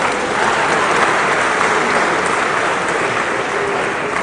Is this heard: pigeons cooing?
no